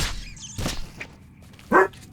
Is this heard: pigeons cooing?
no